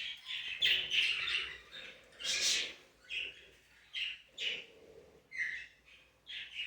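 Pet parrots in cages chirp and squawk in repeated bright bursts, fairly close, coming every second or so with short pauses between calls.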